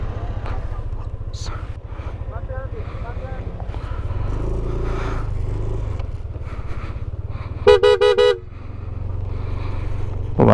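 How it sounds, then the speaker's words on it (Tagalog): A car passing on a winding mountain road in Bakun, Benguet, its engine rumbling close by before a loud, sharp burst of horn toots near the end, with people talking over it. "Sasakyan ha, sasakyan."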